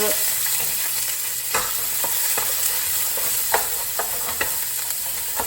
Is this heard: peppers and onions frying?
yes